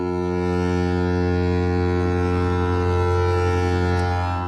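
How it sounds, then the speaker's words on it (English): A long, steady, deep foghorn blast sounds loud and unbroken, with a rich buzzing drone held alone with no voices. "Is he farting a foghorn?"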